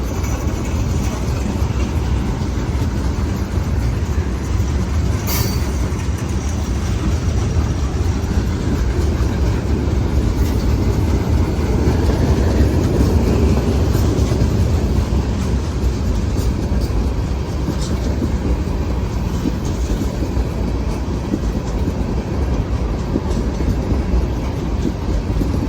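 A CSX freight train with tank cars rolls steadily through the Greenville yard, producing a continuous loud rumble with rail noise, clanks and a few sharp squeals, while a voice speaks briefly underneath.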